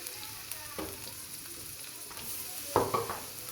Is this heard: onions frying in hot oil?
yes